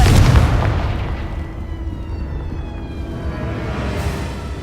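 A Confringo blasting spell goes off in Hogwarts Legacy with a heavy, booming burst at the start that fades into a rumbling tail and lingering ringing tones.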